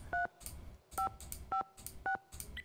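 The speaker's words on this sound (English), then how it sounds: "Why does it sound like a phone?" Code-entry beeps from the Nancy Drew: The Phantom of Venice video game, sounding like telephone keypad tones: four short, evenly spaced two-tone beeps with brief gaps and soft background between them.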